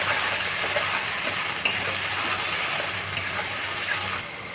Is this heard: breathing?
no